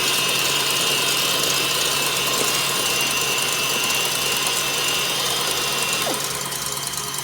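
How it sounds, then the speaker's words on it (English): Steady, continuous whir of an electric mixer blending tres leches cake batter after vanilla is added, running evenly throughout without pause. "Okay, so now that the vanilla is in, we're going to mix this again."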